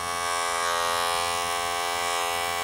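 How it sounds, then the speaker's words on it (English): An electric hair clipper buzzes steadily and loudly during a traditional haircut, its blade corner tapering hair with no voices over the continuous hum. "I'm just using the corner of the clipper blade just to take it away"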